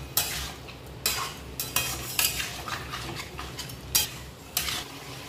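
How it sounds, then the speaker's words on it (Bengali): Meat with spices and dried red chilli paste is sautéed in a pan: a hissing fry under repeated sharp spatula scrapes in an uneven rhythm, close and fairly loud. "যেন মশলা টশলা সব কিছু দিয়ে আমি মাংসটা ভালো করে কষিয়ে নেব"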